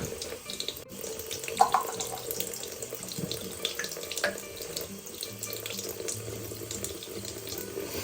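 Water runs steadily from a sink tap while makeup brushes are washed, a continuous near splashing stream with small clinks and handling noises, no voices.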